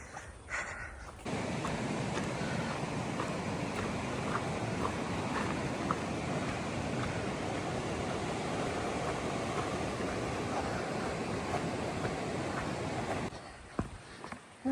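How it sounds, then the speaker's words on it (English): A gushing mountain creek crossed on a Pacific Crest Trail hike rushes in a steady, broad roar that starts abruptly and runs unbroken for about twelve seconds before cutting off, with a brief faint sound after. "Now I gotta cross Spiller Creek, which at least looks much nicer up here than it did down there. It was gushing."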